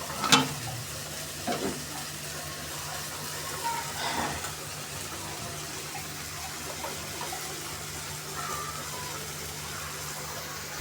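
Whole garam masala and cardamom hit hot oil in a pan while cooking fish, giving a steady soft sizzle with a few sharper clicks and stirring scrapes, fairly quiet and continuous.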